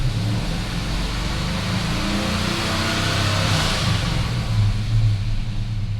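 A GMC Sierra pickup running a swapped-in 5.3 engine on its first start, a steady loud idle that swells slightly as it is revved, heard up close with no talking.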